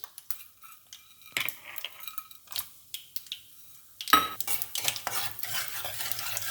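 Mustard seeds, urad dal and chana dal go into hot oil for a South Indian-style potato bhaji. A few quiet utensil clinks come first, then a sudden loud crackling sizzle with rapid popping that keeps going.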